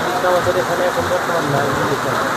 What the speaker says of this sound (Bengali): প্রচুর বৃষ্টি হচ্ছে আজকে